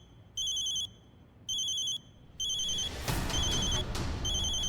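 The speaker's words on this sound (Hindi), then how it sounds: "मेरी माँ का फोन है।" A mobile phone rings with a repeating electronic tone in three distinct bursts, the last burst running on under a rising rush of background noise and movement.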